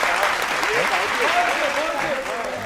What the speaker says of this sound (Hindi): इतनी कमजोर तालियां मत बजाओ, जरा खुल जाओ एक बार आप लोग।